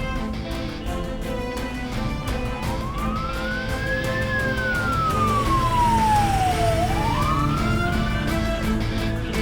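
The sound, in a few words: ambulance siren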